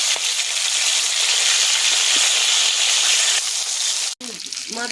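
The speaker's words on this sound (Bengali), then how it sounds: "মাছগুলো লাল লাল করে ভেজে নেব" Tangra fish sizzling steadily in hot oil, a dense continuous frying hiss that runs nearly unbroken before a brief cut, with a faint clink near the end.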